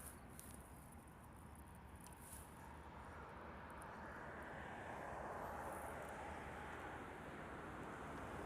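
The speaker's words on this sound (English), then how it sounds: "That JAL Dreamliner's rolling now." A JAL Dreamliner airliner rolls down the runway at Honolulu, its engine roar building steadily from moderate to loud and holding as a broad continuous rumble, with faint insect chirps in the background.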